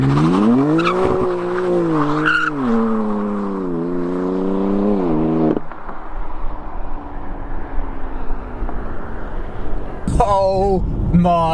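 A new BMW M3 drifts on a track, its engine note rising and falling loudly before giving way to hissing tyre roar. A sharp burst of tyre squeal and engine comes near the end, and someone talks throughout.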